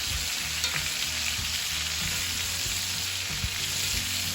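Steaks sear in a hot pan while garlic and herb butter is spooned over them, giving a steady, close, loud sizzle with scattered spoon and pan clatter and no talking.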